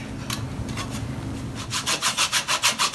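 A one-dollar Dollar Tree hand saw cuts through the trunk of a fresh-cut Christmas tree, first in uneven scrapes, then in a quick, regular run of loud back-and-forth rasping strokes close by.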